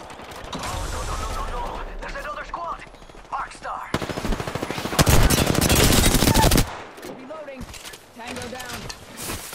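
Gunfire in Apex Legends, with bursts of rapid automatic fire and a sustained loud volley in the middle, plus mechanical weapon clatter and a voice speaking over parts of it.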